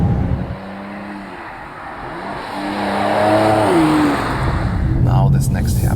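A Mercedes C43 AMG, the facelifted C-Class, pulls hard from 100 to 200 km/h, its engine note rising through the gears with audible shift changes under steady road and wind noise while a voice talks over it.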